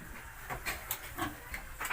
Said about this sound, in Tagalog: Hoy baboy.